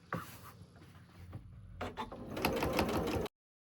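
A sewing machine stitches a seam on quilted pillow fabric, with a steady mechanical rattle that starts hesitantly, pauses, then speeds into a dense, fast, continuous chatter close by.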